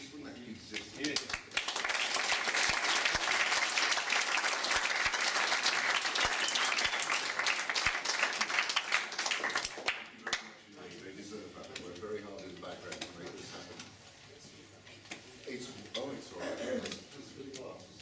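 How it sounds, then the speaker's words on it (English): Audience at a psychiatry talk in Birmingham breaking into a round of applause, a dense burst of clapping that swells quickly, holds for several seconds, then fades, with a voice speaking as it dies away. "Could you give a round of applause to these people?"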